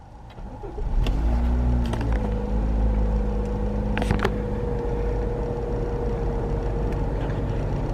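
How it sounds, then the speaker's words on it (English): A car engine cranks and catches at the start of an evening road trip, then settles into a steady idle close by, with a few faint clicks and beeps over the running motor. "I'm going to start the car."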